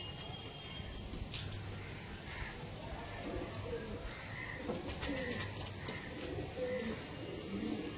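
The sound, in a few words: pigeons cooing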